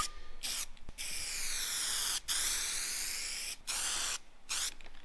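Bursts of black spray paint hiss from an aerosol can in several sustained passes separated by short gaps, close and fairly loud, with no voices.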